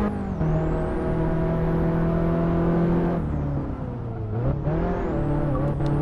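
Race car in Assetto Corsa at full throttle, a loud, close engine holding a steady high whine, then dropping in pitch under braking before climbing again.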